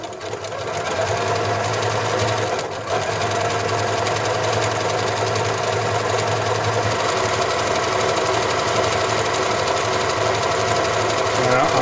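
A Janome Memory Craft 6500P sewing machine runs steadily through a lock stitch, a continuous close mechanical whir with a brief pause near the start, and no talk over it.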